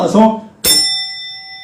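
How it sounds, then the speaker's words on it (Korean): A single bell is struck once and rings out clearly, its bright tones sustaining and slowly fading after a stretch of someone talking. "이 종소리가 나는 거죠"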